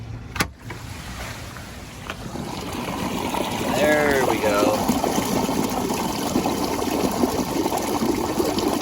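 An RV black water tank drains after its valve is pulled, giving a steady rushing, gurgling flow of water and waste through the hose that swells and holds on, under a brief spoken remark near the start.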